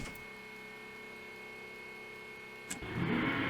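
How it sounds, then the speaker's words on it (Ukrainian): In the Trainz game, a steady mechanical hum with a faint whine drones on as an M62 diesel locomotive's fuel pump runs, then a brief clunk and a louder, rougher diesel engine rumble swells near the end. "О, як ми чуємо, паливний насос працює."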